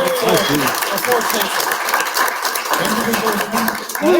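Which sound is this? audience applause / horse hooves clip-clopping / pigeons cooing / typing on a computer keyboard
audience applause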